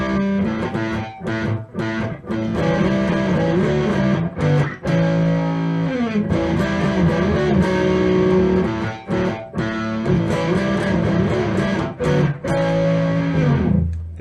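Distorted electric guitar slowly working through the intro of a song, dense rapid note runs and chords with brief gaps, loud and close, played alone without talk.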